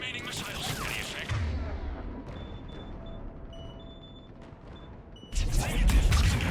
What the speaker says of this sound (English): Firing remaining missiles.